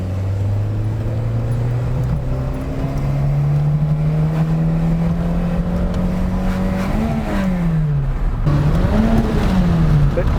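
A Peugeot 205 GTI 1.9-litre engine drones steadily and slowly climbs in pitch, then dips and surges again as the throttle is worked, with no voices over it.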